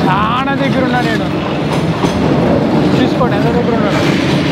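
A train rolls past at very close range through a narrow street lined with buildings in Vietnam, a loud continuous rumble with rhythmic wheel clatter, while a voice speaks over it.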